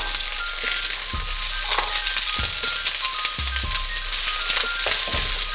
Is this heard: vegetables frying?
yes